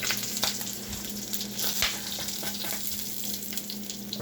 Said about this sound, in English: I'm just gonna let that simmer a little